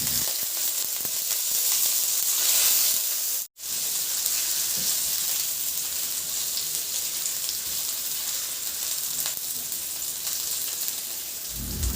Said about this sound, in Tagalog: Magpainit na rin ako ng mantika sa kawali at igisa ko na yung bawang. Igisa ko na rin yung luya.